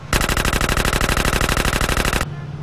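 Rapid automatic gunfire from a video game in the Grand Theft Auto series rattles out in a loud, steady burst for about two seconds, then cuts off abruptly, with no talking over it.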